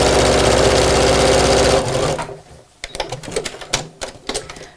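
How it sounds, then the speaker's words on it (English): A sewing machine stitches straight across the corner seam of a tote bag, a fast rapid close whir for about two seconds, then stops, followed by quieter handling thumps and rustles. "So just open up the corners till the side seam sits on top of the bottom seam and sew straight across."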